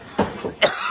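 Two short coughs, close by, a fraction of a second apart.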